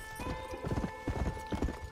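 Horse hooves clip-clop in an irregular cluster of soft thuds in Red Dead Redemption, heard alone and fairly close alongside a faint steady tonal game ambience.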